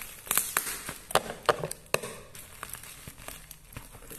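Close-up crinkling, tearing and tapping of the cardboard box and packaging of a FunCooler DL06, irregular bursts of rustling and scraping with a few sharp snaps.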